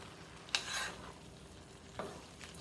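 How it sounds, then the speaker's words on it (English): Pasta and peas stirred in a pan, a soft scraping burst with a gentle sizzle underneath, then a fainter second stir a moment later, fairly quiet and close. "And we mix it all up and finish cooking it with I piselli."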